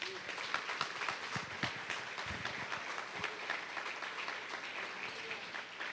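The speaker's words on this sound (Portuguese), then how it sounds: "Aplauda o Senhor bem forte." A church congregation applauds during an online worship service, steady clapping from many hands filling the room at moderate level with a few louder claps standing out near the front.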